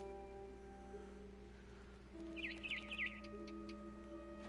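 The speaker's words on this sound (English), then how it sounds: "Then I heard chirping outside my window. It was a barn swallow going back to her nest." A barn swallow chirping outside a window in the video game What Remains of Edith Finch, a brief cluster of faint high twittering notes over a quiet steady ambient hum.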